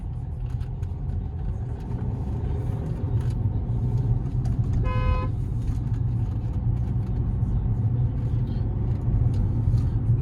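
A Mercedes CLA200d diesel sedan engine runs with a steady, loud low rumble that holds evenly for about ten seconds, with no voices over it.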